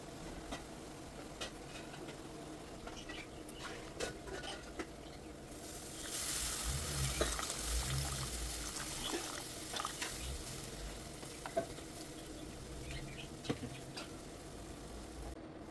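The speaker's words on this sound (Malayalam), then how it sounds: "കരിഞ്ഞു പോകാതെ നന്നായിട്ടൊന്ന് മിക്സ് ചെയ്ത് കൊടുക്കാം" Spice powders for a Kerala karimeen fish curry sizzle and fry in a pan while being stirred, with soft scraping and crackling that swells into a louder hiss near the middle before settling into a low sizzle.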